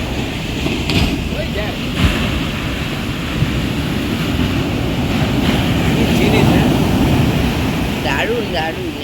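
Sea waves rising at Talsari beach during the monsoon, a loud continuous roar of surf with heavy wind buffeting the microphone, and brief voices faintly in the background.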